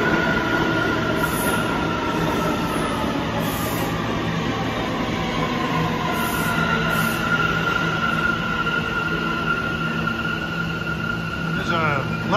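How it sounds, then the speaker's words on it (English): A Lefferts Boulevard-bound New York City Subway A train of R179 cars rolls past with a loud, continuous rumble and steady whine, ending in a brief wheel squeal. "There's a Lefferts Boulevard bound A-train with R179s."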